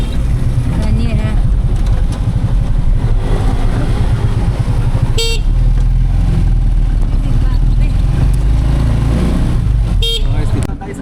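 Busy street traffic in Tagbilaran rumbles continuously and loudly up close, with engines droning and two sharp vehicle horn toots about five seconds apart, while a person talks over the noise.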